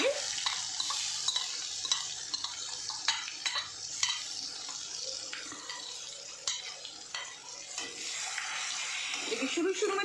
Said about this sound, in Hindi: अब बादाम को हम इसमें ठीक से भुनेंगे।